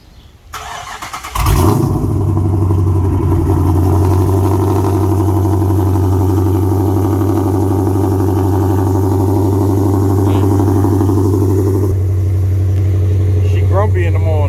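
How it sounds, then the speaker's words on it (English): A Mopar car's engine cold-starting for the first startup of the day, cranking briefly then catching into a loud, steady, deep idle that holds close and continuous, with a faint voice near the end. "Give y'all a cold start."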